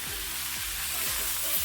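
Galangal, tomato and bay leaves are stirred slowly in a hot pan, a steady sizzling hiss broken by soft rhythmic scrapes of the spoon.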